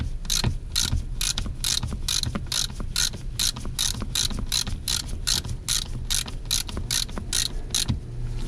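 Steady, rapid clicking of a ratchet wrench working fine-thread rear seat bolts on a Chevy Colorado/GMC Canyon pickup, a continuous run of sharp pawl ticks over low background hum, close and clear.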